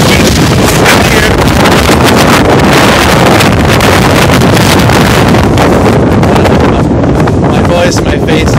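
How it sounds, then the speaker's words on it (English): Strong wind at the top of the Skylon Tower, about 750 ft up, roars and buffets the microphone in a loud, continuous rush that covers the whole stretch. "Oh my goodness, it's so windy here."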